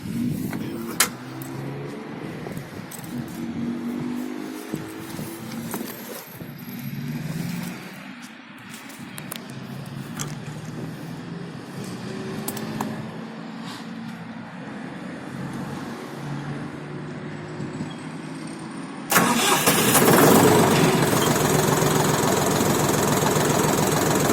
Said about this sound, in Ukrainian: Почуємо, як він працює.